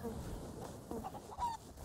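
Chickens clucking in the pirate video game Sea of Thieves, a few short soft honking clucks rising over a quiet, steady game ambience with faint voices underneath.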